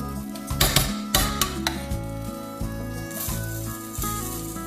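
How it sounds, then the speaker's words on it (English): Rice being scooped onto a dish, with close clinks and scrapes of a metal spoon against the plate, a few distinct knocks followed by lighter rattling over a tonal background hum. "A scoop of that right in the middle of the dish."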